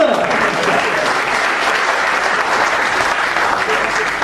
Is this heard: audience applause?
yes